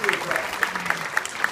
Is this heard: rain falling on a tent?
no